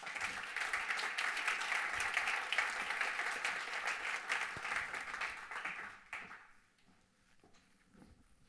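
Audience applause fills the hall at an open educational resources award ceremony in 2016, a dense, steady wash of many hands clapping that holds for about six seconds, then fades quickly to quiet room tone.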